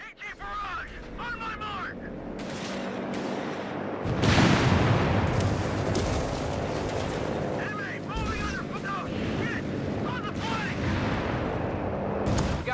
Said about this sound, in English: Bombenangriffsflug, Unterstützung.